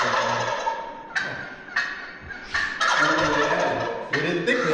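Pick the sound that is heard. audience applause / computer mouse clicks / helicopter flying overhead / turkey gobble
turkey gobble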